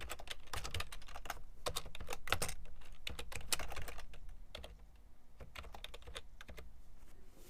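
Rapid typing on a computer keyboard, with bursts of close, crisp key clicks in an uneven rhythm that ease slightly toward the end, heard alone without speech.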